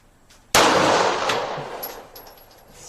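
A single loud pistol gunshot at an outdoor shooting range cracks sharply and rings out with a decaying tail, followed by faint metallic clinks.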